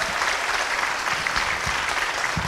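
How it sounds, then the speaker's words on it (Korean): An audience at a traditional Korean music talk concert applauds in a dense, steady, loud wash of clapping that continues without pause. "큰 박수 부탁드립니다"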